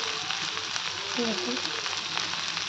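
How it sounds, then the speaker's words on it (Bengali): Leafy greens fry in a pan with a constant, fairly loud sizzle, and a faint voice briefly murmurs partway through. "এখন এই যে শাকটা ভাজি করতেছি দেখতে পাচ্ছেন"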